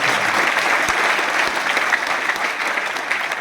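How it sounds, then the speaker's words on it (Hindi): Dense, continuous applause from a crowd of attendees at a business meeting in Jaipur, loud and even throughout with no speech over it. "जोरदार तालियां साथियों, हमारे लिए नहीं, आप सब लोगों के लिए जोरदार तालियां"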